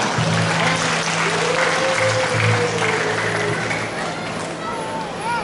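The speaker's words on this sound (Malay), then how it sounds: "Berikan tepukan bagi semua penyumbang." Audience clapping at a Kaamatan harvest festival ceremony in Lahad Datu, broad crowd applause under a sustained tonal hum, with a voice briefly audible over the din.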